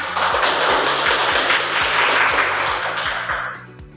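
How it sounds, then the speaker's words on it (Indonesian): A classroom of students clapping together during an Islamic religious education lesson, a steady dense patter of many hands at close range that tapers off toward the end, with no talking over it. "Tepuk tangan dulu."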